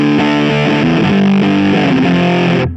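An electric guitar through a Line 6 Firehawk fuzz pedal effect at factory settings plays a loud, distorted, buzzing riff of sustained notes that cuts off abruptly at the end.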